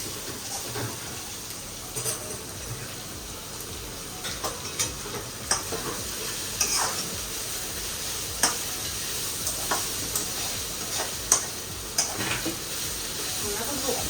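Soft, steady sizzle of onions frying in a pan, punctuated by scattered clicks and taps of a utensil against the pan.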